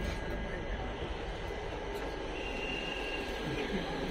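A moving train rumbles steadily inside a crowded second AC compartment, a low continuous hum with faint rattles and no clear speech.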